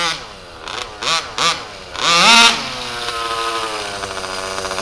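A small gas engine in an HPI Baja RC car during its first break-in gives three short rasping blips. It then revs into a loud buzzing roar and settles into a steady, high idle nearby.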